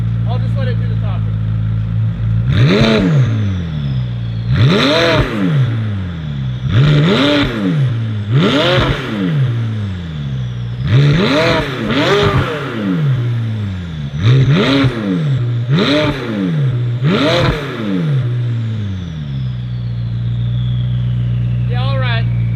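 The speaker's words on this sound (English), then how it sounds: "I'm gonna hop in and give it a couple revs" A McLaren 570S with a valved exhaust and high-flow downpipes is revved repeatedly, about nine sharp rising-and-falling blips over a steady idle, loud and close, with turbo whoosh between them.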